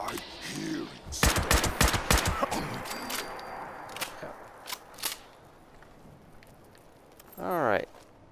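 Rapid bursts of gunfire in Fallout 76 crack out in a dense volley, then a few scattered single shots follow over a quiet ambient bed, ending with a brief whooshing swell.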